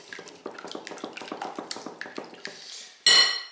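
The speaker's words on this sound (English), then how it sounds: "What you need are two large eggs. And I'm going to just whisk these very" Two large eggs being lightly whisked in a bowl, a rapid, even run of close metallic taps and clinks against the side, ending with a brief sharper scrape.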